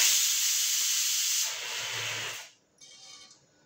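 Mustard seeds tempering in hot ghee for kadhi give a loud, close, continuous sizzle and hiss that drops in intensity partway through, then cuts off and returns more softly.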